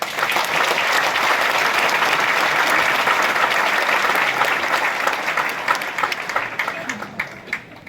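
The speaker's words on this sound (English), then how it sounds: "Let us all give our graduates a round of applause." Sustained audience applause fills a graduation ceremony hall, dense and loud for several seconds before thinning into scattered claps toward the end.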